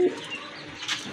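Racing pigeons at a pigeon farm give a soft, low coo near the start, then a faint flutter of wings late in the short stretch over steady room noise.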